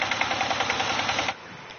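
A tractor engine runs close by in a rural Mosuo village, giving a steady, loud chugging with rhythmic pulses that drops to a quieter rumble after about a second.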